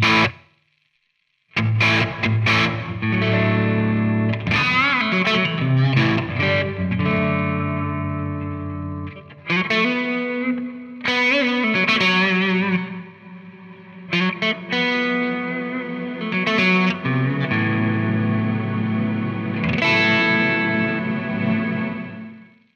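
Electric guitar through a reverb pedal as the decay knob is turned: distorted chords and single notes ring out with long washy tails, separated by short pauses, alone with no talk.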